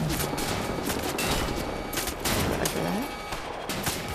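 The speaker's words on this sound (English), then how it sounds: "Who's shooting me?" Gunfire in the video game Wolfenstein crackles in rapid, close bursts throughout, steady and dense, with a person talking over the shooting.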